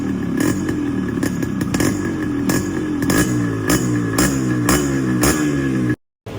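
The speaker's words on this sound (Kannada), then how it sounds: "ಒಂದೇ ಕಿಕ್ಕಲ್ಲಿ ಸ್ಟಾರ್ಟ್ ಆಗ್ಬಿಡ್ತು ಗುರು." A vintage Yamaha RX motorcycle engine running after a kick start, with a loud, close, steady two-stroke idle and rhythmic clattering pulses before it cuts out abruptly near the end.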